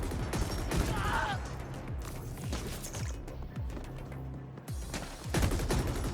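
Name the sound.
gunfire in video game The Ascent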